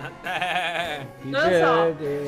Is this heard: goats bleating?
yes